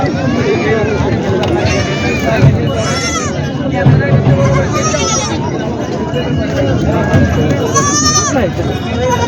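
Goats bleat repeatedly amid a noisy crowd at a goat market in Purna, several wavering cries rising over constant chatter and babble nearby.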